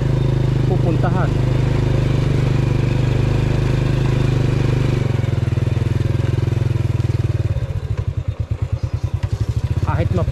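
An off-road motorcycle engine idles steadily on a muddy, slippery rural trail, then shifts into a rougher, pulsing chug toward the end, with someone talking over it.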